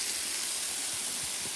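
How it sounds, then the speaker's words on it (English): Smash burgers steam and hiss on a Blackstone E-Series flat top griddle, a steady close broadband hiss with no speech. "There's so much steam in there, and that helps."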